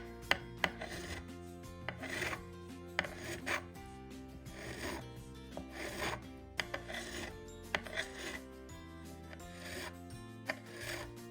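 A file rasps across nickel guitar frets while the frets are levelled, heard as soft, close strokes at irregular spacing under a sustained musical background.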